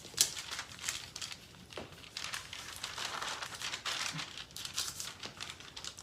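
A paper sewing pattern for a basic bodice is folded along a dotted line, giving steady close crinkling and rustling that runs throughout with small crackly peaks.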